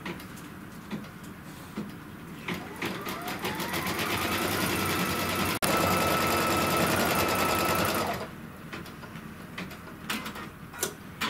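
A computerized quilting machine stitches an edge-to-edge design across a hooped quilt, its needle ticking in a fast steady rhythm that swells louder mid-run, then stops, leaving quieter intermittent clicks and mechanical movement.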